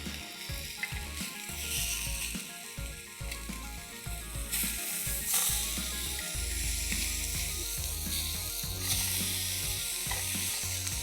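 Chicken steak sizzles on a grill with a steady, close, loud frying hiss and crackle that runs unbroken throughout.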